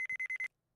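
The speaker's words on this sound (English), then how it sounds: "Beep." Short electronic beep from the courtroom game Phoenix Wright: Rise from the Ashes, a quick run of five clipped high-pitched pulses followed by silence.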